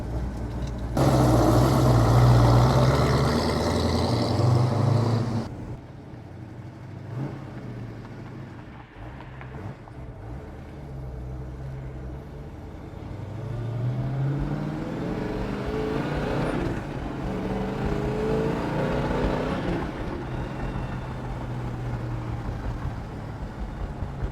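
A 1968 Plymouth Road Runner with a 426 HEMI engine, heard from inside: a loud burst of deep engine roar for several seconds, then a lower steady rumble as it cruises along.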